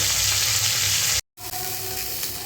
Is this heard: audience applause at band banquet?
no